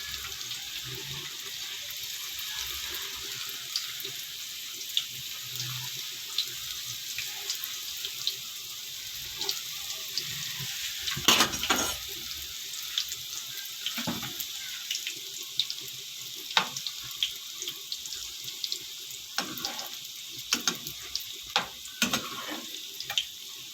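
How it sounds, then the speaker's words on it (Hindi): Chicken spring rolls frying in hot oil over a medium flame, a steady hissing sizzle with scattered crackles and pops and a few louder bursts, continuous and close, with no talk. "ये हम एक एक करके मीडियम फ्लेम पे इसको फ्राई करना है"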